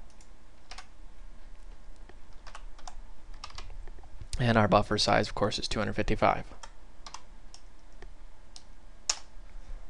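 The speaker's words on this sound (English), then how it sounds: "that was a lot of typing" Rapid clicking of keys on a computer keyboard, typing in quick bursts, with a person speaking briefly partway through.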